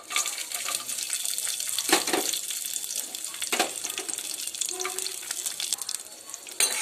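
Raisins and cashews crackle and sizzle in hot ghee in a pan, a steady close frying hiss with occasional louder pops and stirring scrapes.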